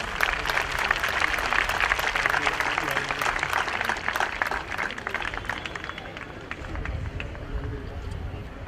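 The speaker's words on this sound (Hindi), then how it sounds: "एक बार जोरदार तालियां" A large audience claps loudly and continuously, the dense applause holding strong throughout before easing slightly toward the end.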